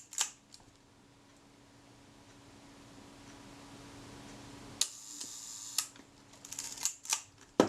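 A Kodak Retina IIIc camera under repair gives a run of sharp mechanical clicks and snaps from its shutter release and film advance, close and crisp over a faint steady hum, with no talk.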